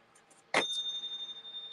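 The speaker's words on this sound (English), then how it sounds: "ding the bell" A small bell dings once, a bright sharp strike that rings on with a sustained tone over faint room noise.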